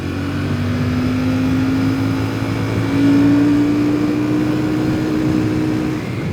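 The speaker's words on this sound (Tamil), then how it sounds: "இப்போ இந்த கிளாசிக் 650யை ட்ரைவ் பண்ணி வண்டி எப்படி பெர்ஃபார்ம் பண்ணுது அப்படிங்கிறத நம்ம செக் பண்ண போகிறோம்" Royal Enfield Classic 650 Twin motorcycle in second gear gives a loud, steady engine drone whose pitch rises gradually as it accelerates, continuous and close with no speech over it.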